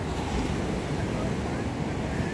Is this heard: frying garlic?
no